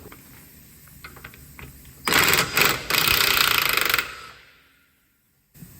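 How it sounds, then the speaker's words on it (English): An air impact gun works an 18mm nut loose on the front lower suspension arm of an Audi A4 B7, a loud hammering rattle of about two seconds with a brief stutter, then silence after a quieter lead-in. "First thing I'm going to do is just undo this 18mm nut just with a buzz gun"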